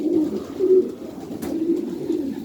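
Domestic pigeons in a pigeon loft, being readied for the breeding season, coo softly and steadily in low, rolling calls throughout, with no one talking.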